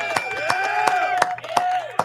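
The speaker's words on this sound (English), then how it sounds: "Round of applause to Donald Trump." Scattered claps from a crowd applauding Donald Trump land at uneven intervals over about two seconds, mixed with a continuous voice and background hum rather than a full, dense ovation.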